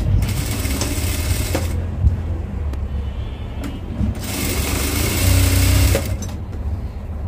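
A sewing machine stitching folded fabric for a kameez neckline, loud and close, its motor whirring in bursts with mechanical clicking and brief pauses between runs.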